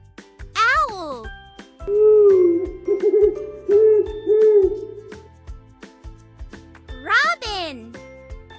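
An owl gives a run of clear, repeated hoots over upbeat background music, set between two loud swooping sound effects.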